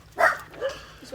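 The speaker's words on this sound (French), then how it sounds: "adorable ce chien" A three-legged dog gives a short, sharp bark-like yip, followed by softer small vocal sounds, heard up close.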